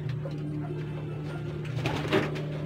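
Turtle doves or pigeons coo softly in a bird-keeping setting, low repeated calls running steadily through the clip with no talk over them.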